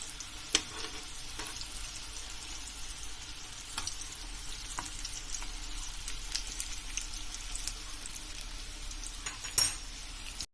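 Constant crackling sizzle of dough frying in hot oil, with a few sharp pops and light clinks of a utensil.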